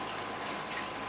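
Water pours steadily into a container holding killifish eggs, a close, continuous splashing gush with no pauses over the brief moment.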